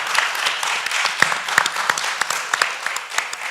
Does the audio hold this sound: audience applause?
yes